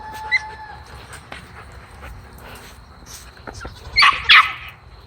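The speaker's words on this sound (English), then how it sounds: "He's got the yappiest bark." A small, yappy farm dog lets out two sharp, close barks near the end, after a stretch of quiet outdoor background with faint whimpers and soft noises.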